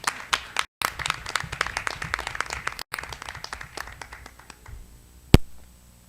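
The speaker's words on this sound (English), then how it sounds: "Let's give him another round of applause" A school board meeting audience claps in a brief round of applause, dense at first and then thinning out into a few scattered claps before it stops.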